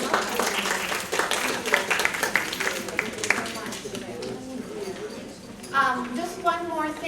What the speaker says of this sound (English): we'll give a big round of applause